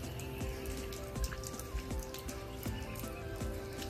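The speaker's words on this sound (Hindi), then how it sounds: "बहुत बारिश हो रही ना बाहर, इतनी बारिश हो रही है" Heavy rain pours outside in a dense, continuous patter, with sharper drops striking a surface irregularly throughout and no voices heard.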